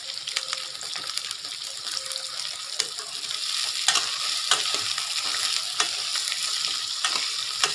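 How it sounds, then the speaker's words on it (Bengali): Onions sprinkled with salt fry in a pan while a utensil stirs them, a soft steady sizzle with irregular scraping clicks and taps, nearby and with no talk. "পেঁয়াজগুলো আমার একটু ভাজা হয়ে গেছে।"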